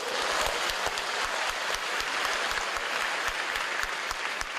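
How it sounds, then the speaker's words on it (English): Spontaneous applause from an audience at an academic machine learning conference in China, a dense steady wash of many hands clapping throughout, loud and close. "It's not often, actually, at academic conferences that you do hear spontaneous applause."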